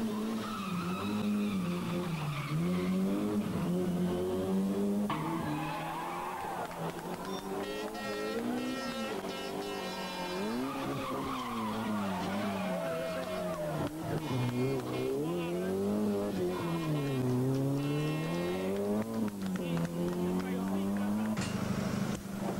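An Opel rally car at the 1990 Circuit des Ardennes enters a corner with its engine wailing, rising and falling through the revs as the tires skid, loud and close throughout.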